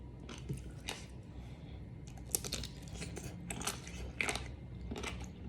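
Crunchy giant jellyfish chewed close to the mic, with a steady run of crisp, wet crunches and bites spread through the stretch, fairly quiet overall and with no talking.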